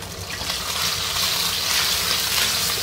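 Crucian carp fry in oil in a wok, producing a loud, dense, continuous sizzle and crackle close by, steady throughout without speech.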